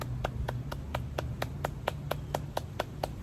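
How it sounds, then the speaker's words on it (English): Hands clap at a steady, even rhythm during a seniors' group memory exercise, with about a dozen sharp, close claps in a row over faint background hum. "clapping our hands."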